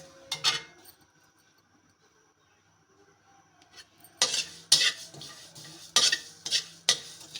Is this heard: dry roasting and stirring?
yes